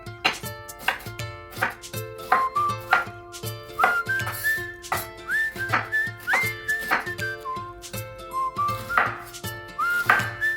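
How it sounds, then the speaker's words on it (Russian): A knife slices fennel into half rings on a cutting board: a steady run of crisp, close chops, roughly two per second, over a bright whistled melody playing in the background. "Фенхель нарезаем полукольцами"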